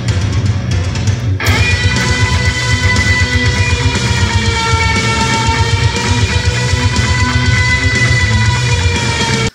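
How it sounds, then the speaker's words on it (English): Wet siren-style guitar effect from a Line6 Helix preset for a song, a loud sustained wavering tone with layered harmonics over a steady droning low end, played alone. "The next sound we have is this wet siren in the background."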